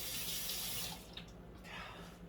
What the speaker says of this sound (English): Let me just rinse this out.